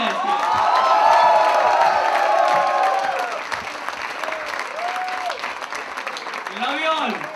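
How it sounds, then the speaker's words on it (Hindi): At a college fest performance, a crowd breaks into loud applause mixed with cheers and whoops, the clapping swelling then thinning while shouted voices and whistles rise above it. "तालियां बजाएं"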